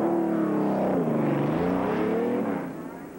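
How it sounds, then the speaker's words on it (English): A NASCAR Busch Series race car circles the track at the 1993 Pantry 500, its engine a loud, steady roar that shifts in pitch as it runs past, then fades somewhat toward the end. "looks like they've got Tommy Ellis repaired and back out on the track."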